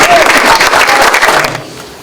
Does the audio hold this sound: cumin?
no